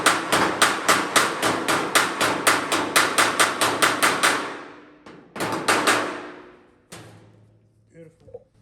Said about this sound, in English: with my hammer, where there's a kink on the inside here, I'm just going to give that a few taps